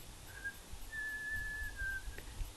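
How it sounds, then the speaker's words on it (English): A person recovering from Bell's palsy with Ramsay Hunt syndrome attempts to whistle through puckered lips, producing a faint brief tone, then a longer wavering whistle of about a second, thin and quiet against low background noise. "Compress lips together, pucker lips and attempt to whistle."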